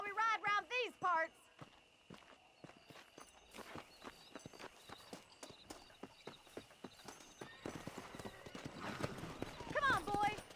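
Horse hooves clip-clopping in Red Dead Redemption, opening with a whinny, then steady walking hoofbeats that quicken into a faster ride, a second neigh near the end, moderately loud and close.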